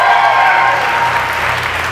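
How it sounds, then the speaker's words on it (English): Show audience at an open stage gives a loud round of applause that starts strong with a brief voice and fades slightly as it carries on. "Big round of applause for Alan Blakely."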